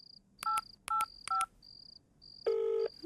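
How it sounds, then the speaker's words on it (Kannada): Several short telephone keypad dialing beeps sound in quick clusters, then a longer ringback tone begins; clear and close, with no talk. "ರಿಂಗ್ ಆಗ್ಲಿಕ್ಕತ್ತದ. ರಿಂಗ್ ಆಕೇತಿ,"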